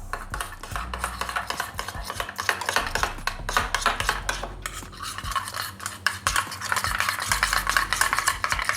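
Paneer marinade with about two teaspoons of lemon juice being mixed in a bowl, with steady clinking and scraping of a utensil against the dish, close and continuous throughout.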